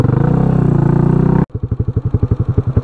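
A Suzuki GN400 bobber motorcycle engine runs loud and close, a dense buzzing drone that drops abruptly into a slower, lumpy single-cylinder idle thumping in a steady pulse.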